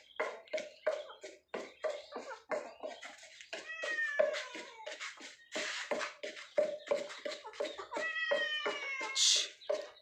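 A cat meows over and over at close range, a rapid string of short, insistent cries with a few longer, rising calls.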